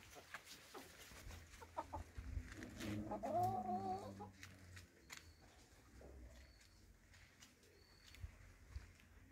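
Laying hens cluck in a chicken coop on an organic farm, a near, drawn-out cackle standing out midway over scattered soft clucks and faint background calls.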